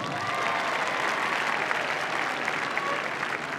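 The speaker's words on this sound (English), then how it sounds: "please give a great big cheer for Norway" Steady applause and cheering from a dog show audience at an international large-dog agility jumping event, welcoming Norway's competitor and his border collie; a dense, continuous wash of clapping that holds at a constant level, with no voices over it.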